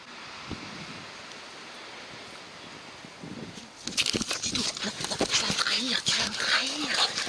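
Dogs whimper and yip at a campsite, a few faint whines at first, then excited yelps, scuffling and rustling grow louder and busier, with people talking over them.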